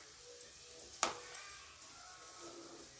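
Chopped tomatoes stir-fry in a pan for an egg thokku, giving a quiet, low sizzle with a few sharp clacks of the spoon against the pan.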